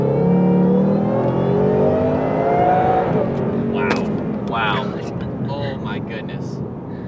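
A powerful 800-horsepower supercharged Whipple 2018 Ford Mustang engine roars loudly, its pitch sweeping as it revs, then fades as people talk over it.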